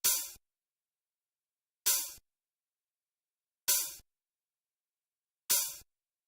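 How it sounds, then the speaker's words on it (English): Four evenly spaced open hi-hat hits from an ambient trap beat made in FL Studio, each a bright hiss that rings briefly and cuts off, with silence between them. "next sound is some open hats"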